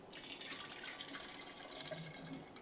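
Water trickles into Ugadi pachadi in a clay pot, a soft, faint, continuous stream heard close up without any talking.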